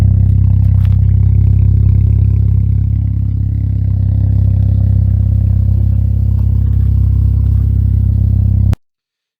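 Car engine with a 3-inch stainless downpipe into a 2.5-inch stainless exhaust and resonator, a loud deep low droning rumble that holds steady for several seconds, then cuts off abruptly.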